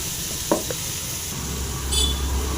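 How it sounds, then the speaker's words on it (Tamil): Tomatoes and spices frying in a pan for a green bajji chilli dish, a soft steady sizzle with a couple of stirring knocks near the start, close and moderately loud. "நல்லா ஃப்ரை ஆகுதுங்க"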